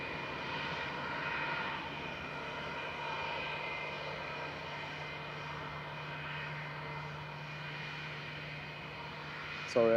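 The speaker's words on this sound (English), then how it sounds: "Another 757 departing shortly" A Boeing 757 jet at Manchester Airport hums steadily at a distance, a moderate even drone with tonal whine, ending in a brief sharp sound.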